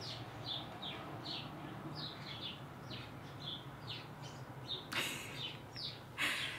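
A flock of small birds chirps just outside a window: quick, bright tweets repeat steadily and fairly faintly over a low indoor hum, broken by two brief sharp noises near the end.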